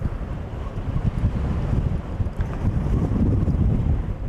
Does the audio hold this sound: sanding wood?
no